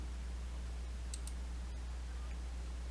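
A computer mouse gives two quick close clicks in a row, followed by a fainter single tick, against a steady low hum in an otherwise quiet room.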